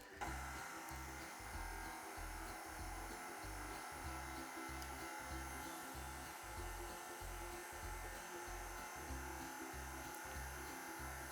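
A stand mixer beats gingerbread cookie dough, giving a steady electric motor whir with a regular rhythmic low thump from the turning paddle throughout, faint and without talk.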